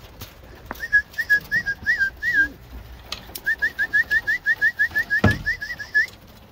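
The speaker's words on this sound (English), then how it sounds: "And my birds are waiting for me." Racing homer pigeons in a loft on a snowy day calling in short repeated whistling, cooing bursts, two runs of rhythmic notes, fairly close with a sharp knock near the end.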